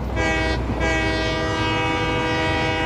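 A train driven in the VR video game Satisfactory, rumbling loud and steady with a held horn-like tone that briefly dips and returns, running continuously with no talk.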